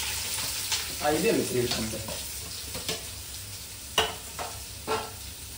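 Oil frying in a pot for home-made chicken biryani, with a continuous hiss and sizzle and a few sharp stirring knocks, while someone speaks briefly over it.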